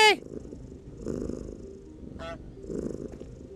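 Cat purring in a video game demo, a soft rumbling purr in low pulses after a brief high meow-like chirp, with a short chirp midway.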